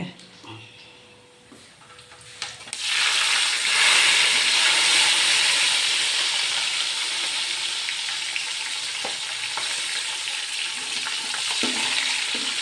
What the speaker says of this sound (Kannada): ಫ್ರೈ ಮಾಡಿಕೊಡೋದು ಟೊಮೆಟೊ ಈರುಳ್ಳಿ